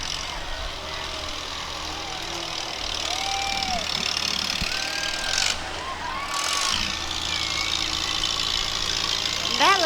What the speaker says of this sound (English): looks like a working tractor right there. That is definitely a working tractor. Listen to that engine purr.